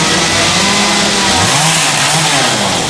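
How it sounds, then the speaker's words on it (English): A loud chainsaw carving wood into a giant eagle at a wood carvers' display in St. Louis, Missouri, running continuously at high revs with slight pitch shifts. "right here is using his chainsaw carving a giant eagle"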